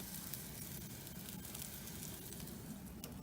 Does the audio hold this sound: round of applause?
no